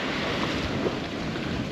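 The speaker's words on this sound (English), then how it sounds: "It is windy, probably like gusting to 20 knots." Strong gusty wind roars steadily around a sailboat at sea, gusting to about 20 knots with a small jib set, a loud continuous broadband rush with no pauses.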